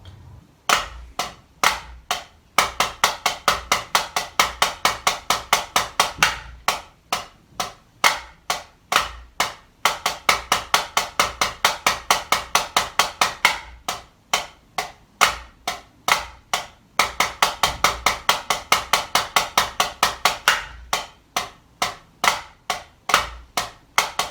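Crisp drum flam taps, a warmup exercise, played in a fast, even pattern with grace-note flams, repeating in phrases and briefly pausing between cycles.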